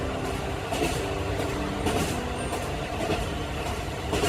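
A local train runs along a remote stretch of a since-abolished main line in Hokkaido, giving a steady, dense rumble of wheels and carriage noise with faint rhythmic rail clicks throughout.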